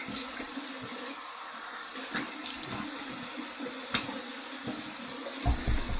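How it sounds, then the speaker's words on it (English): Cold tap water runs into a sink for a rinse after shaving, a steady close splashing stream with small splashes and bumps from hands in the flow. "This cold water rinse is going to be fabulous."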